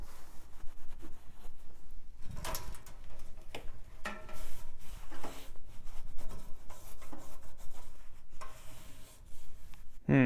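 A cloth or hand wipes dust from inside a 1990s HP Vectra XA tower computer case, giving soft, close, irregular rubbing and scuffing strokes with occasional light knocks against the chassis.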